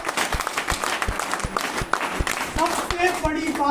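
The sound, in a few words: applause from the audience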